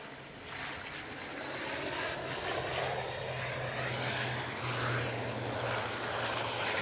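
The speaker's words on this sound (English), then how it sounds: "Nice landing there." A plane landing at Manchester Airport, a steady broadband engine roar with a low droning hum throughout, fairly distant and constant over wind-like noise.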